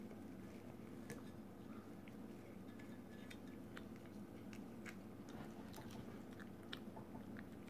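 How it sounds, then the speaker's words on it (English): A pet steadily chewing and biting on a pepper, with soft crunchy mouth sounds repeating close up over a low continuous background hum, and no talking. "He's like just trying to chew it, chew like a leaf."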